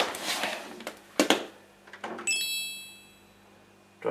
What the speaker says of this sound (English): Drive door open.